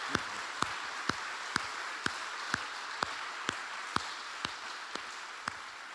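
A preacher claps his own hands at a steady, deliberate pace, about a dozen sharp single claps evenly spaced over constant room hiss, with no voice.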